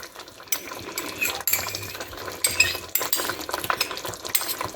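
Pizza sauce with mixed herbs, ketchup and chili sauce stirred in a pan, a spoon scraping and clinking against the metal in steady, irregular strokes, close and fairly loud with no talking.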